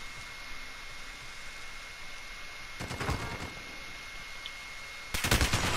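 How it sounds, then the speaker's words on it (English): Light machine gun fire in Call of Duty Modern Warfare comes in two short, rapid bursts, the second louder and closer, over a steady hum of game ambience. "No, it's a light machine gun."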